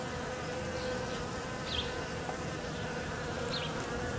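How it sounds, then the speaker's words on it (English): Steady buzzing of honeybees in flight foraging at pollen substitute in March in New England, a continuous busy hum with a few louder passes close by, over a low background rumble. "But the bees are going after this pollen."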